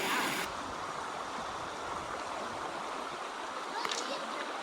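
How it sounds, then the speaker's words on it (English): A river flowing on a family outdoor outing: a broad, steady rushing of water, continuous and fairly close, with a brief brighter splash near the end and no clear talk. "this river goes all the way to the ocean"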